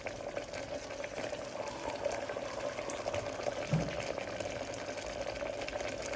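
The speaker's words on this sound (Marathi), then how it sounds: "थोडं पाणी टाकायचं, अर्धा ग्लास." Half a glass of water poured into a pot of simmering chicken curry, a steady soft liquid wash running evenly throughout, fairly close with no voices.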